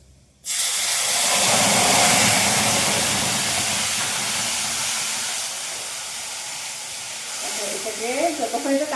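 Dried red chilies fry in hot oil with ginger and green chili paste, a loud, broad sizzling hiss that bursts up suddenly and holds steady. Toward the end the sizzle eases and faint voices come through underneath.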